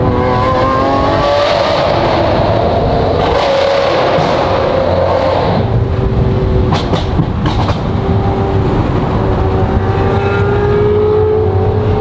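Lamborghini SVJ and other vintage supercars from a rally driving back down a mountain canyon road, a loud, continuous engine roar with shifting tones as the cars pass steadily, with no talk.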